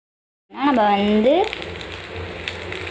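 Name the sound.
rice and masala frying and being stirred in a pan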